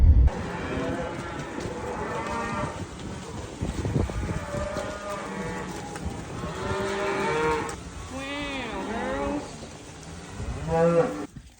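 Cattle in a farm field low repeatedly, several drawn-out moos rising and falling across the stretch, fairly close, with wind and outdoor rumble underneath and someone talking intermittently.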